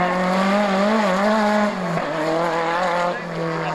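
A red-and-yellow BMW rally car with a 2-litre engine, prepared by a BMW engine specialist, races past at Rallye Montastruc, its engine note loud and near, shifting pitch as it passes, with a brief tyre squeal.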